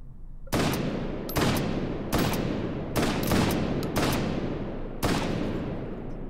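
Gunshots in the VR shooter game H3VR, seven loud close blasts at roughly one-second intervals, each with a sharp crack and a lingering ringing tail, no talking.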